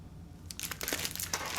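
A purple foil mailer for a monthly makeup subscription bag crinkles and crunches as it is handled up close, the rustling starting faintly and growing busier and louder, with no talking.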